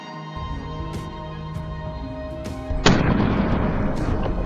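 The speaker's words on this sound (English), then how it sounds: "A gunshot cracked through the air," A single loud gunshot fired at a wild boar bursts out near the middle, followed by a broad lingering rumble and outdoor noise after a quieter stretch of background hum.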